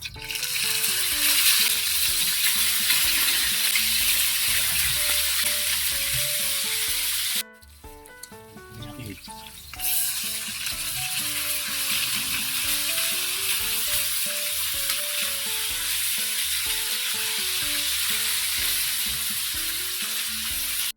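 Dalagang bukid fish frying in hot oil makes a loud, dense, continuous sizzle close by. The sound breaks off briefly partway through, then returns with the same steady crackle.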